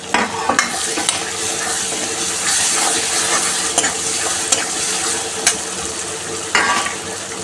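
Potatoes go into a pan of frying onions, giving a steady, close sizzle broken by sharp clicks and scrapes of stirring.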